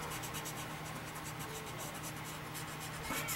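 A cotton swab rubs over colored pencil on paper to blend it, making soft, quiet rhythmic scratchy strokes close up, repeated steadily throughout.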